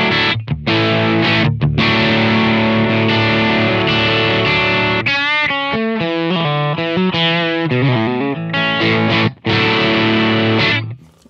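Electric guitar chords played through a Simplifier MK2 amp simulator pedal, a steady run of sustained, distorted strums followed by quicker changing chords, loud and close with no voice.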